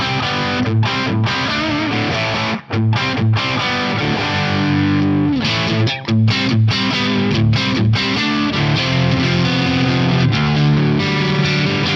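Electric guitar on its bridge humbucker, run through a Fractal FM9 with studio reverb and the delay switched off, plays dense, distorted chords and riffs that ring close and loud, with brief breaks between phrases.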